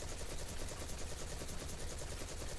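Hip-fire from a gun in Destiny, a steady rapid stream of automatic shots with an even rhythm, continuous throughout and fairly quiet in the mix, with no voices.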